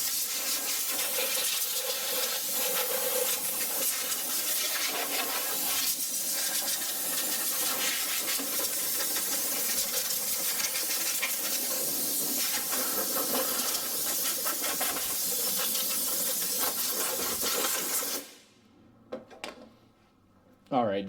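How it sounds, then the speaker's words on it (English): A handheld air wand blasts compressed shop air over a freshly washed engine, a loud continuous hiss that runs steadily for many seconds before cutting off, followed by a few short bursts. "I'm going to take my air tool here that just blows air. It's an air wand."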